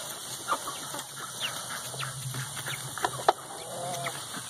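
Chickens cluck and peck at watermelon rinds in a farmyard, with short irregular clucks and pecking taps close by over a faint steady hum, no talking.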